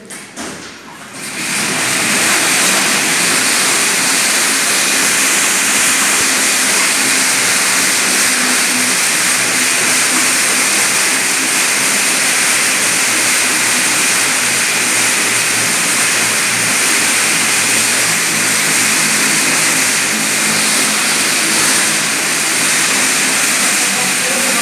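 A Military Police working dog runs on a training treadmill, and the machine gives off a loud, steady roar and whir like a jet engine that holds unbroken for over twenty seconds with no voices.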